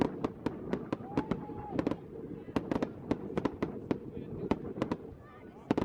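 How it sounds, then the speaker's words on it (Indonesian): Sharp fireworks bangs popping in a quick irregular series, a dozen or more crisp cracks close together and moderately loud, with a brief whistling streak early on. "ini adalah kembang api"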